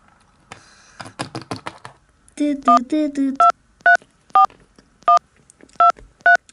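Touch-tone telephone keypad being dialed: a burst of key clicks, then a run of distinct two-tone beeps at steady intervals, loud and close, with brief voice-like sounds near the start.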